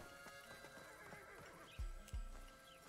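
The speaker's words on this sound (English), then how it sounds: "I hate horses, Billy." In the video game Desperados III a horse lets out a whinny over a busy in-game background, and two heavy hoof thuds follow near the end.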